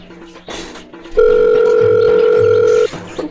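A phone call's ringback tone: a loud, steady electronic tone holds for close to two seconds after a few softer beeps and background sounds, then cuts off abruptly, with no speech over it.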